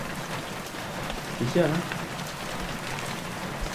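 Steady rain patters on a hut in New Zealand as a continuous hiss, in cold, windy weather, with a brief spoken remark partway through.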